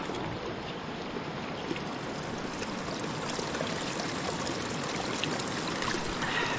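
Steady, close rushing and trickling water flowing from a spring, a continuous broadband splash with no pauses and no voices.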